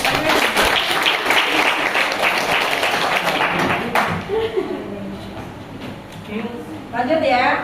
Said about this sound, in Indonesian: Oke, bagus. Tepuk tangan.